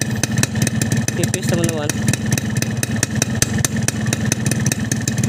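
A two-stroke motorcycle engine fitted with an LRF Elite Pro exhaust idles cold on stock settings and Pertalite fuel, a loud rapid steady chatter with slight revs, while someone speaks briefly over it.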